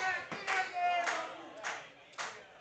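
Wrestling crowd at a New Texas Pro championship match clapping in scattered bursts to rally behind Carter BlaQ, a few distinct claps rising above general arena murmur and faint voices.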